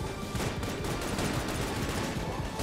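Dense, rapid gunfire from a new weapon in a modded bullet hell video game, a continuous loud barrage of overlapping shots that fills the whole stretch without pause.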